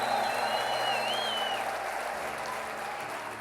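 Steady applause from a crowd fills the whole stretch, with a high trilling cry rising over it near the start.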